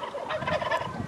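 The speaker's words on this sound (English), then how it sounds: "Oh, we've got a turkey crossing." A wild turkey gobbles, its rapid warbling calls standing out clearly through the whole short moment, near and fairly loud outdoors, with other fowl sounds mixed in.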